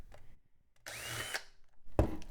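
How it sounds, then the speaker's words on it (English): A power drill bores rivet holes during the teardown and repair of a computer tower case, a short whining burst of about half a second that rises and winds down, close up, with clicks and handling noise around it. "Now let's go ahead and drill some rivet holes."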